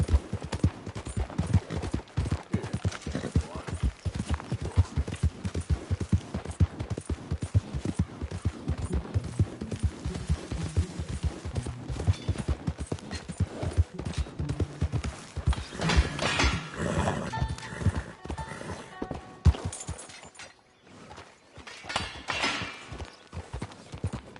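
A horse gallops in Red Dead Redemption 2, with steady rapid hoofbeats drumming continuously and loudly for the whole stretch, joined later by rustling and a brief lull near the end.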